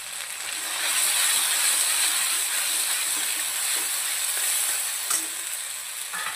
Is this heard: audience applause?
no